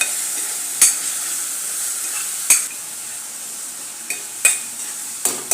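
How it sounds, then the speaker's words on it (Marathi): Ground spice paste with curry leaves and a pinch of asafoetida fries in oil in a pan, a steady soft sizzle broken by a handful of sharp spatula clinks against the metal. "वाटण ते सगळं मसाले तेलामध्ये चांगले परतून घेऊ"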